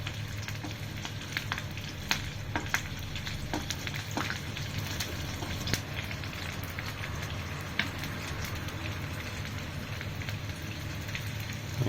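Garlic and ginger sizzling in a little hot oil in a pan over a flame, a steady soft crackle with scattered pops, alone with no talking.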